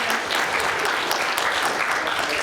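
An audience at a hack day presentation session claps steadily, a dense, continuous patter of many hands, fairly close and even throughout, with no voices over it.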